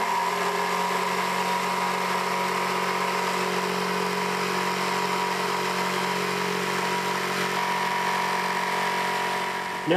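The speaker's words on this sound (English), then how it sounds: "now we can go get the jigsaw" A jigsaw cuts wood steadily and loudly for the whole stretch, a constant motorized whine with a buzzing, grinding edge, no pauses and no voices.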